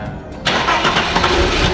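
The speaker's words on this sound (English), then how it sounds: "we just changed the fuel pump on the Mercedes and we're gonna try to start it up" A long-abandoned Mercedes S 500 on gasoline, with a newly replaced fuel pump, cranks and fires up. A brief quiet is followed by the engine catching abruptly and settling into a loud, rough idle.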